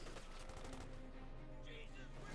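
MG-34 machine gun fire in a Company of Heroes 2 match: rapid, rattling bursts mixed with other battle noise, heard beneath a commentator's voice.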